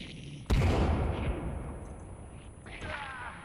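A loud sudden bomb blast in Sons of the Forest, a sharp boom with a long rumbling decay, then a second smaller burst near the end during a mutant fight.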